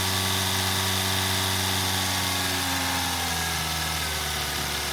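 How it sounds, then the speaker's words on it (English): A 2021 Toyota Corolla engine idles steadily after an oil change, a constant close, even hum with a low drone and no voices. "So we're gonna start the engine now and just let it run for a minute until it oil circulates through the filter"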